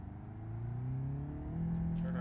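An engine in the BeamNG.Drive driving game climbs steadily in pitch as the car accelerates away from a standstill, fairly loud and continuous with a brief shift partway through.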